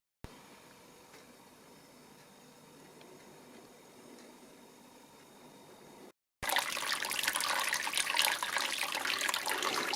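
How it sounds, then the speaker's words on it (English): Faint water trickles steadily down from a pot during home beer brewing, then after a short break a louder, fuller stream pours and splashes nearby. "The water's coming down,"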